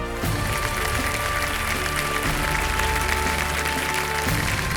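A studio audience on a TV quiz show applauds steadily to welcome Indian men's hockey goalkeeper PR Sreejesh, a continuous, moderately loud wash of clapping with music-like tones underneath.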